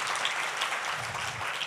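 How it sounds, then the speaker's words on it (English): Audience at a violence prevention conference clapping in a steady, dense round of applause, moderately close and continuous for the whole moment. "Please give Mr. Blow a round of applause again."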